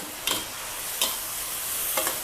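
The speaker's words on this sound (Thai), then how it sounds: "เปิดค่ะ เปิดฝาเลยนะคะ ผัดอีกค่ะ" Mixed vegetables stir-fried in a pan with crispy pork lard, a steady sizzle with three sharp scraping strokes of a spatula spaced about a second apart, close and without voices.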